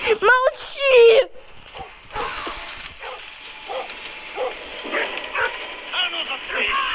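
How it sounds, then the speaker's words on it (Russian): A dog in the game Метель gives sharp, whining yelps at the start, then falls to faint whimpers and rustling in a quiet room. "Собака, молчи, дура!"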